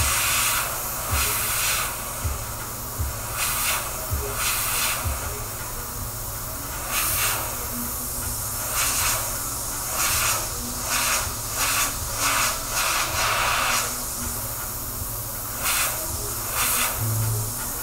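An airbrush sprays paint onto an old portrait in a steady, close hiss that swells in repeated bursts over a continuous airy background, with no voices.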